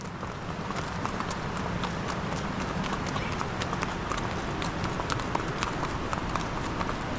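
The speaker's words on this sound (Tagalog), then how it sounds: "Itong kabayo ko." A ridden horse's hooves clip-clop steadily at a quickening pace, close and loud over constant broadband road and wind noise, with no clear talk.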